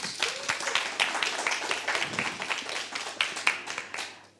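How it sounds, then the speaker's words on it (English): Audience applause at the DevFest Berlin 2022 tech conference, steady crowd clapping with sharp individual claps, tapering off toward the end. "Please, round of applause for our next speaker."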